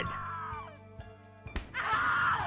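In the horror adventure game The Cat Lady, a person screams and groans in agony, with one wail fading out, brief thuds, then a louder sustained scream.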